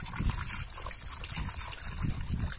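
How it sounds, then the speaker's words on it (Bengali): Whole watermelons being scrubbed and rinsed in water, a continuous close sloshing and splashing with soft irregular thumps from handling the fruit, no voices. "এখন ওয়াটারমেলন গুলোকে ভালোভাবে ধুয়ে নেব"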